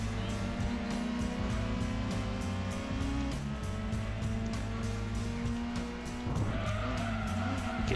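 Shelby GT350 race cars in the Gran Turismo 2 video game roar steadily with loud, sustained engine drone and shifting gear pitch, a tire squeal rising near the end, no talk.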